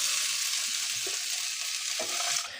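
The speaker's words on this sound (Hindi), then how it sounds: "तो देखिए भिंडी भी अच्छी फ्राई हो गई है।" Okra (bhindi) fries in oil in a kadai with a continuous bright, close sizzle, broken by a few soft stirring scrapes.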